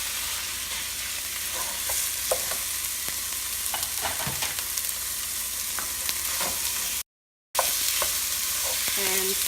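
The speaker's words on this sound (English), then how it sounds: "and stir it well" Sliced beef stirred and fried in a pan for Cambodian somlor machu krueng, a steady close sizzle with scattered scraping clicks of the utensil, briefly cut to silence partway through, with no talking.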